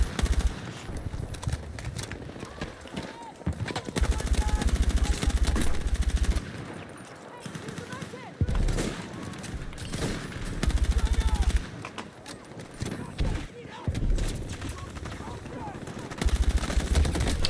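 Rapid bursts of automatic gunfire from a shooter video game on a New York or San Francisco beta map, loud and repeated in uneven clusters over a dense bed of other game sounds.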